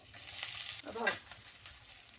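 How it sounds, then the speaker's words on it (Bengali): Two cloves of chopped garlic frying in oil for a Bengali susni greens stir-fry: a close, steady sizzle with a brief burst of spatter around the middle, and no voices. "দুটো কোয়া রসুন আমি কুচিয়ে তেলের মধ্যে দিয়ে দিলাম"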